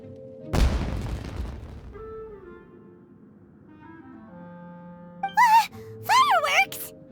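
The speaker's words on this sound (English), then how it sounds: "Was that an explosion? It sounded like fireworks." Fireworks burst in the Genshin Impact video game, a loud broadband blast early on that decays over a second or two, followed by quieter tonal game sounds and short rising whistles near the end.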